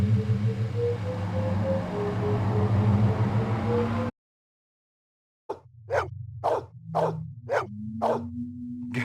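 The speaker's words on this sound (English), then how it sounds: "Good doggy." A dog in the Blade Runner game barks in a quick series of sharp, close barks, about seven in a row, following a stretch of humming ambient drone and a brief silence.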